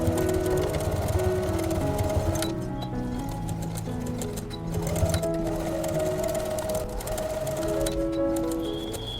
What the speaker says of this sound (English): So here we'll have to make a stitch on the lining fabric as well as on the main fabric.